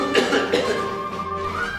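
A single person coughs in a studio, a short rough burst of a few quick hacks close to the listener.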